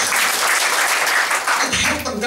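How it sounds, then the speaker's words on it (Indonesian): A congregation at an Indonesian church service bursts into loud, dense applause that holds steady for about two seconds before starting to thin out. "Yang percaya tepuk tangan bagi Yesus."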